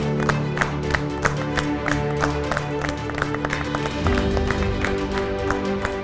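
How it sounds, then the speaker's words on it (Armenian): An audience claps steadily to congratulate the ISCT Labs team at a televised business-idea contest, a dense even patter of applause with a low musical tone underneath and no talking. "եւս մեկ անգամ եկեք ծափահարություններով շնորհավորենք ISCT Labs"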